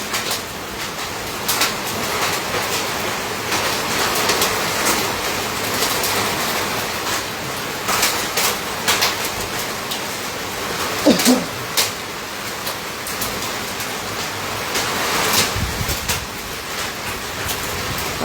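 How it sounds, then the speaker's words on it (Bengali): A heavy hailstorm in Thakurgaon Sadar, Bangladesh, drums as a dense, continuous roar of hailstones striking surfaces, loud and close. Brief sharper impacts and faint voices come through near the middle. "এটি ঠাকুরগাঁও জেলায় এই শিলাবৃষ্টি হচ্ছে"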